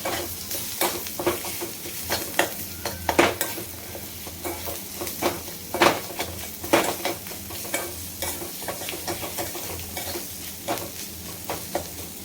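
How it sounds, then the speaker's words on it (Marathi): Onion and coconut paste sautéed in oil for a prawn masala, a steady sizzle broken by repeated scraping and clinking of a spoon against the pan, close and busy. "त्यानंतर कांदा आणि खोबऱ्याचं वाटण घालते परतून घेते तेलावरती छान प्रकारे"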